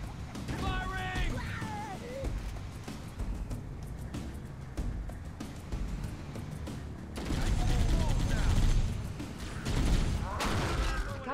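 Gunfire in the Halo video game, with repeated weapon bursts and crashes amid battle noise and shouted voices. The shots grow louder and denser toward the end.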